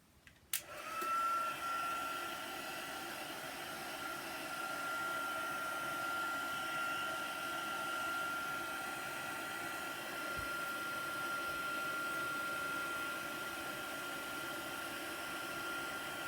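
A handheld dryer blowing over chalk paint on a craft tray clicks on and then runs as a steady, close whooshing hum with a thin whine, continuous and alone.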